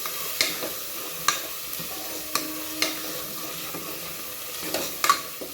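Chopped tomato sautéing in a pan for potato and brinjal kuzhambu, a soft steady sizzle broken by a few sharp clicks and scrapes of stirring, fairly quiet and close with no voices.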